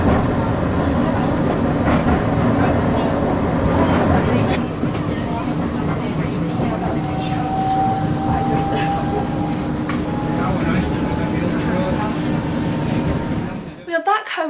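Blackpool tram rolling along its rails at a seaside pleasure beach: a steady, fairly loud rumble and clatter with a rising whine, then a sudden drop near the end; voices may be faintly present.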